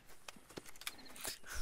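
A big Shire horse walking in the video game Red Dead Redemption 2, its hooves sounding as soft, irregular clip-clops close by over a short stretch.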